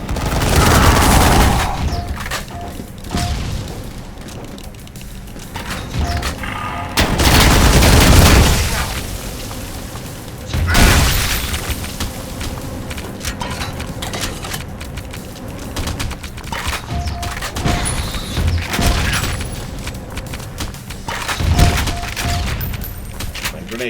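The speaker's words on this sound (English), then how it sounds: "Grenade tag, don't mind me." Grenade blasts and bursts of gunfire from the shooter game Ion Fury arrive as heavy booms around two, eight, eleven and twenty-two seconds, with steadier weapon fire and game noise filling the spaces between them.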